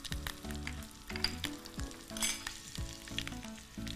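A spoonful of ginger paste sizzles in hot oil in a Gujarati cooking show kitchen, a steady crackling fry under a faint musical background, with no one speaking.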